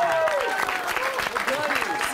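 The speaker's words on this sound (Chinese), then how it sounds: "掌声欢迎" A crowd at a lodge gathering in Taroko, Hualien, applauds as three young men are called to the front. The clapping is dense and continuous, and voices ring out over it.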